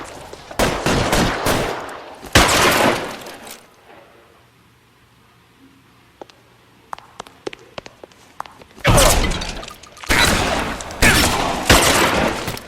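Heavy automatic gunfire in the crime game L.A. Noire comes in dense, loud bursts at the start and end, with a quieter stretch of scattered taps and footsteps in between.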